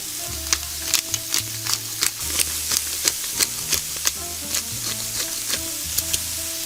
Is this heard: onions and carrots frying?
yes